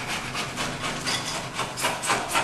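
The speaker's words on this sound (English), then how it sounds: "Just keep scraping it." Putty knife scraping along plastic bullnose cornerbead on a drywall corner, a steady run of raspy, mid-close strokes repeating roughly every half second with brighter bursts near the end, no talking.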